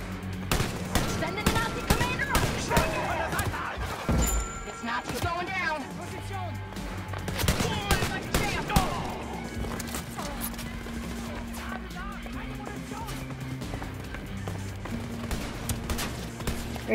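Gunshots crack in Wolfenstein: Youngblood during a chemical warfare mission on Victory Boulevard, a series of sharp reports in the first half over game music and effects, with a person talking throughout.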